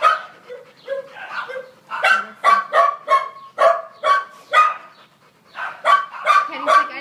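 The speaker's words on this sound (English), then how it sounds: "She barked at me." Katty, a small temperament-tested dog, barks repeatedly at close range in quick yappy bursts with short gaps, some sharper yips mixed in and a brief lull before a final flurry.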